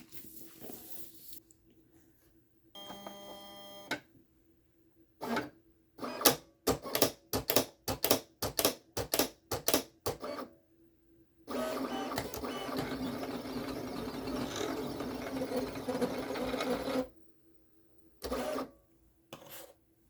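A vinyl cutting machine works sublimation vinyl on a cutting mat: a short whir, then a quick run of rhythmic pulses, a long steady motor drone, and a final brief burst, close and clear.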